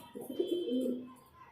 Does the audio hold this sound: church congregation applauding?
no